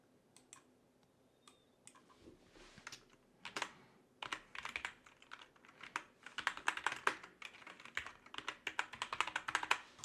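Rapid typing on a computer keyboard while entering a chart title in a spreadsheet: close, crisp key clicks in uneven bursts that grow busier toward the end, with no voices.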